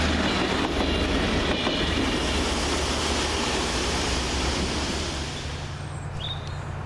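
An RHTT railhead treatment train passes through Stourbridge Junction station with a steady, loud rolling rumble and rail noise, fading slightly toward the end.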